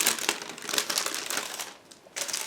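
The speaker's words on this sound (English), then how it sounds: "almost all sprues are packed into the separate plastic bags" Plastic bags holding the sprues of a Rye Field Model 1/35 Tiger I kit crinkle and rustle as they are unpacked, a close, continuous crackling with a brief quieter gap before it resumes.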